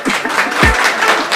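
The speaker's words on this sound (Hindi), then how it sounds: "देखो ये लोग भी आपकी ताली बजा रहे हैं पीछे" An audience behind the camera claps continuously in a steady, moderately loud patter, with a short low vocal sound briefly over the applause.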